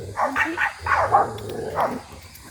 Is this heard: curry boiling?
no